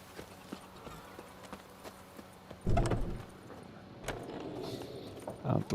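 A summoned horse's hooves in The Witcher 3 video game clip-clop quietly at first, then a louder burst of galloping steps and thuds arrives up close, with a few softer hoofbeats after.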